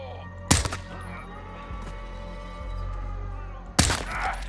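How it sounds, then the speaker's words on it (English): Gunfire in the Modern Warfare 2 video game: two sharp, loud shot bursts, one near the start and one near the end, over a low steady ambient rumble. "Gunfire alerted them."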